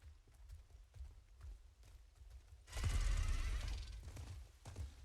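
Faint rhythmic clopping of horse hooves in Diablo 4, steady and soft at first, then a louder whooshing rush as the pace picks up.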